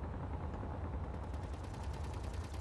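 In the space-building game Space Engineers, rapid automatic gunfire rattles continuously as a steady, quiet stream of shots with no pauses and no talking.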